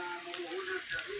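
Sliced bitter gourd (ampalaya) frying in a pan, a soft steady sizzle heard close and fairly quiet, with faint voice tones over it.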